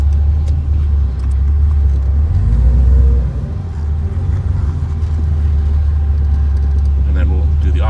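A 1969 Chevrolet Camaro restomod rolls slowly in reverse, its engine a steady deep rumble that swells briefly, close by, with a person talking over it.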